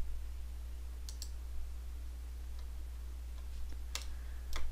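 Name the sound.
computer mouse clicking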